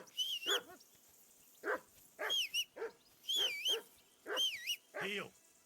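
Mutt the dog barks repeatedly in Kingdom Come Deliverance II, a run of six sharp, close barks with brief whimpering tones, separated by short pauses.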